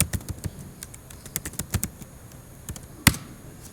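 Text is typed into a message box on a computer keyboard: a quick, uneven run of close key clicks with short pauses and one louder final keystroke, and no talking.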